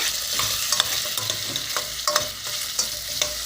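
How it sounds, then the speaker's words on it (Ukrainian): Utensil scraping and stirring onions frying in a sizzling pan, with repeated clicks and scrapes over a steady frying hiss. "Тут знову перемішую."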